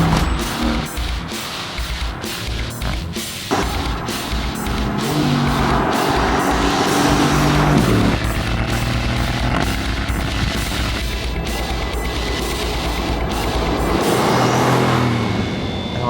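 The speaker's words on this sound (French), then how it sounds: "la GT est assez silencieuse même si on entend bien le bruit des pneus à 130 à l'heure" Tyre roar from a 2016 Mercedes-AMG GT S with a 4-litre V8 cruising on a motorway at 130 km/h, a loud, steady broadband road rumble with a low engine drone underneath and no talking.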